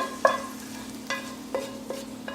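A salt-and-pepper seasoned mixture is scraped into a hot pan: a handful of sharp utensil scrapes and clinks over a low, steady sizzle.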